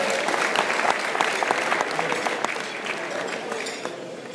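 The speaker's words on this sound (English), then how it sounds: "So let's give a big round of applause to Allie" Conference audience applause for a keynote speaker, a steady wash of many hands clapping at moderate level throughout and slowly tapering off.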